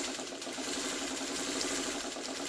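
A sewing machine stitching a chevron quilt block made by the flying geese method, running in a steady, fast, continuous mechanical whir close by, with no pauses.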